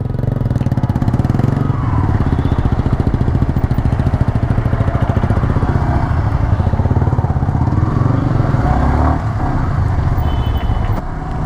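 Yamaha R15 V3 2018 motorcycle engine while riding, a loud, continuous buzzing engine drone with rapid pulsing and slight pitch swells as the rider accelerates, close to the bike with no talking.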